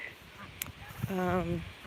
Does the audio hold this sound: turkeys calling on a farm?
yes